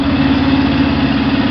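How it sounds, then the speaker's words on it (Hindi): A 2025 Yamaha FZ X Hybrid motorcycle engine idles close by after a silent start, giving a loud, steady, even hum with a fine rapid pulse and no voices. "चलिए मैं एक बार बाइक को स्टार्ट कर रहा हूं, इसी से आपको पता चल जाएगा साइलेंट स्टार्ट किस तरह काम करता है।"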